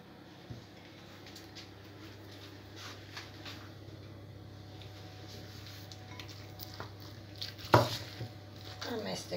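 Seasoned meatball mixture with salt and black, red and white pepper being stirred in a bowl, soft squishing and scraping under a steady low hum, with a sharper clink near the end.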